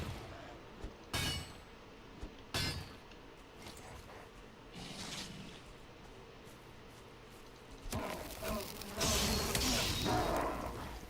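Bees buzzing in the Valheim video game, a faint insect drone broken by a few sharp clicks and hits, with rising clatter near the end.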